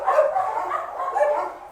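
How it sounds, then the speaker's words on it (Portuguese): A pack of about 45 dogs barking together, a dense overlapping chorus of loud, continuous barks close by with no pauses. "Cachorros, gente, não tem como... São 45, não tem como conter todos ao mesmo tempo."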